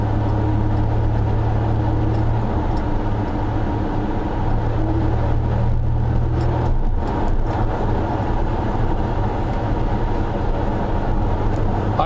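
A 1991 Dodge Dakota pickup with a worn clutch that doesn't fully release, heard from inside as a steady low engine drone and road rumble throughout, with a brief shift in engine note partway.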